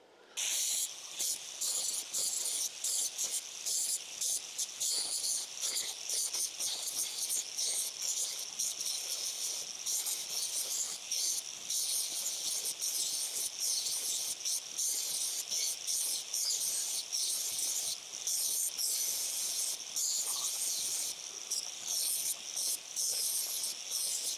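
Bench-mounted belt sander grinder attachment shaping metal parts for a custom tubular motorcycle subframe on a Triumph build, giving a steady, loud, hissing abrasive grind that runs continuously and close without pause.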